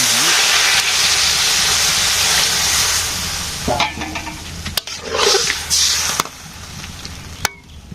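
Curry braising in a hot pan gives a dense, continuous sizzle and steamy hiss, with sharper clatters and scrapes of stirring toward the end; no voices.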